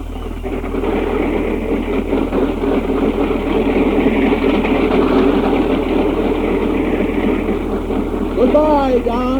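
An airplane engine runs at a loud, steady drone close by, a constant low rumble that persists throughout while voices are heard over it.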